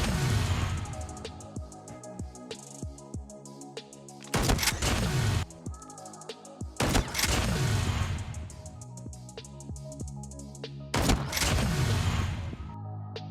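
Shotgun blasts in a video game fired at a training bot, a series of loud, sharp booms spaced a couple of seconds apart over a steady game soundtrack, with no talking.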